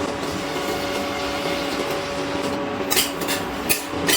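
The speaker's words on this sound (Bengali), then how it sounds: "আমি কেটে রাখা পেঁয়াজটা দিয়ে দিচ্ছি তেলের মধ্যে" Chopped onion goes into hot oil already holding dried red chillies, for a ridge gourd, potato and prawn curry. The oil gives a steady, loud, close sizzle with a few sharper crackles near the end.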